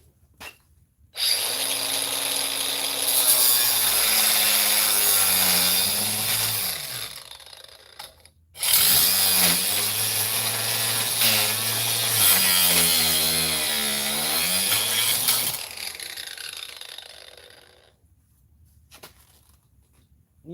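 A grinder runs in a workshop while Lego Bionicle parts are prepared for injection molding. Two long loud stretches of motor whine rise and fall in pitch under load, separated by a brief stop, then spin down near the end.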